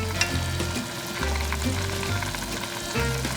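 Jjamppong broth at a rolling boil in a pot, a steady close, dense bubbling sizzle that churns continuously without any talk.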